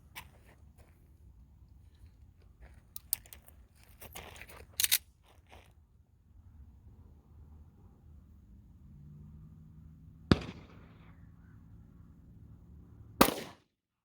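Two sharp pistol shots from a Rock Island Ultra FS firing 10mm Federal Punch 200 grain rounds, spaced about three seconds apart, loud and close, with some faint handling clicks and low background rumble earlier.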